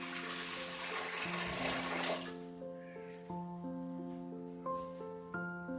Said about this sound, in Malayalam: ഇനി ഇതിലേക്ക് കുറച്ച് വെള്ളം ഒഴിച്ചു കൊടുക്കാം.